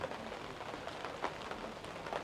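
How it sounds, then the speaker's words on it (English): Pouring rain on a patio in Paphos, a dense steady hiss of falling water with scattered droplet splashes, close and continuous at a modest level. "it's pouring rain, and I'm not going to do that because I'll get soaked"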